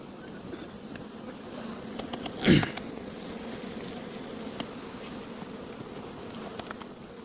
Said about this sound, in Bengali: এই মুহূর্তে মৌমাছিও তাদের যে নেকটার সংগ্রহ করার কার্যক্রম সেটা অলরেডি শুরু করে দিয়েছে